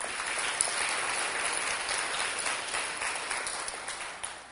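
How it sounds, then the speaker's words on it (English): Audience applause at an awards ceremony, an even, continuous patter of many hands clapping that holds steady and tapers slightly toward the end, with no voices over it. "a round of applause for her again anyway"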